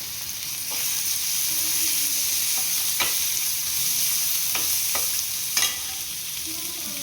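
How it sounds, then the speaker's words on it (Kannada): Bread toast frying in a pan with chilli powder, a steady soft sizzle underneath with scattered clicks and scrapes of a spoon stirring, continuous and close with no speech. "ಎರಡು ನೀಟಾಗಿ ಹಸಿ ವಾಸನೆ ಹೋಗೋವರೆಗೂ ಫ್ರೈ ಮಾಡ್ಕೋಬೇಕು"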